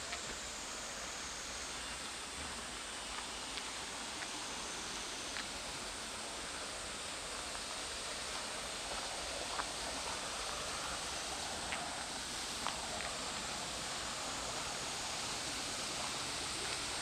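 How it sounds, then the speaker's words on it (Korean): Okyang waterfall, a small mountain waterfall on Baegaksan in Sangju, gives a steady, soft broadband rush of falling water heard from nearby, faint and even throughout with occasional light rustles and no talk. "옥양 폭포"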